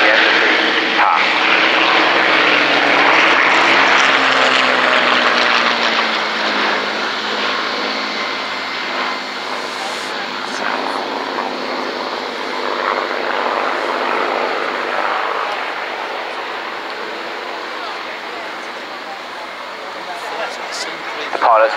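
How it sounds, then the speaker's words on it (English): An Avro Lancaster bomber with fighter planes flies past at the RIAT airshow at Fairford, a loud sustained propeller-engine drone that slowly fades as the aircraft move off, with an announcer talking over it. "As you see the Lancaster come round for the crowd ride, the fighters in the background just lining up to join her on the flank."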